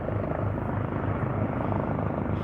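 A helicopter hovers close by over the sea on a fishing trip, its rotor giving a loud, dense, steady chopping throb throughout with no pause.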